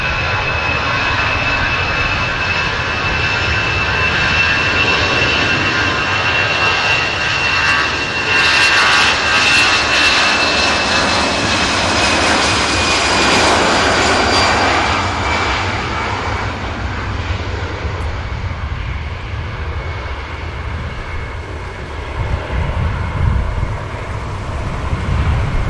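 An ITA Airways airliner's jet engines roar at Manchester Airport, a loud sustained whine and rumble that swells as the aircraft passes close, then slowly fades, with no talking.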